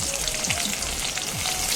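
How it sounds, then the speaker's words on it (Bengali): Chopped garlic and bay leaves sizzle and crackle in hot mustard oil, a dense, continuous frying hiss up close with no voices. "গরম তেলে দিয়ে দিচ্ছি 2টো তেজপাতা আর কুচিয়ে রাখা রসুনগুলোতে খুব ভালো মতো লাল করে ভেজে নিচ্ছি"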